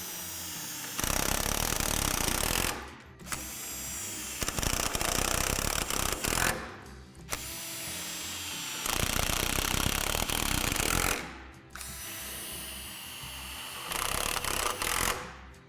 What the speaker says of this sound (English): You will be drilling through the frame